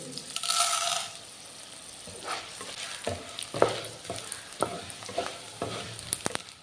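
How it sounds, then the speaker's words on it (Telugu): Tempering seeds fry in a pan for a drumstick-leaf dish, a soft sizzle under scattered sharp pops and spatters, with stirring scrapes and clinks close by. "ఇప్పుడు తాలింపు గింజలు అన్నీ వేసుకోవాలి."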